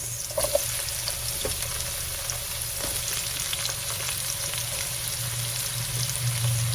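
Garlic and onions sizzle in hot oil in a pan for chicken chopsuey, a steady close crackling fry running throughout with a few faint clinks near the start.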